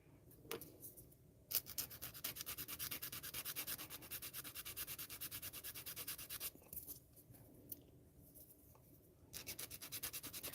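Sander rasps in fast rhythmic back-and-forth strokes across a surface, close and fairly faint, with brief pauses between runs and no talking.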